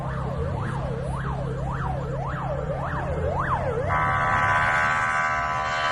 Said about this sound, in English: We can hear the police siren that sounds like a fart